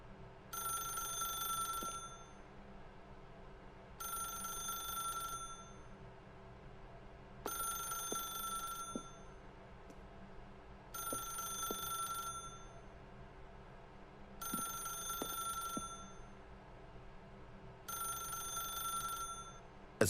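An old-style telephone bell rings in The Stanley Parable video game, six evenly spaced double-burst rings about every two and a half seconds, with soft ambient hum and faint clicks between them.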